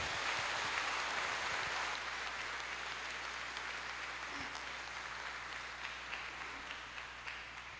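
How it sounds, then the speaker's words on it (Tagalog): Congregation applause at a priest's ordination ceremony, a dense, continuous wash of many hands clapping that sounds soft and distant, holding steady and fading slightly toward the end. "pasalubungan tayo pong masikan a palakpak."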